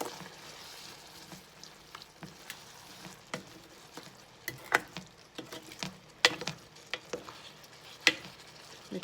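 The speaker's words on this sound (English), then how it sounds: "we're gonna stir that all together" Green beans with soy sauce in a frying pan being stirred together, a quiet sizzle under frequent sharp scrapes and taps of a utensil against the pan, growing busier and louder toward the end.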